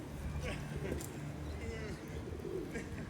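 Pigeons cooing outdoors with a seagull among them: soft, low, rolling coos that stay faint beneath a steady wash of background noise.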